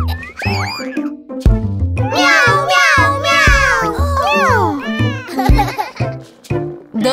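In a children's cartoon song about a little cat, a singing voice imitates meowing with a string of rising and falling sung meows over bouncy musical accompaniment.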